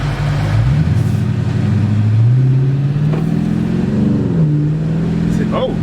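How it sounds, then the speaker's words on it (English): A car engine revving after a pedal box install, a loud, continuous roar whose pitch climbs and falls through several throttle sweeps. "Car started."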